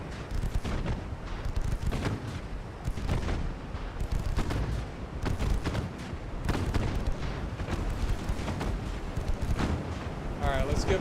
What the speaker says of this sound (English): You can hear the 3-inch guns going off as well as the 5-inch guns.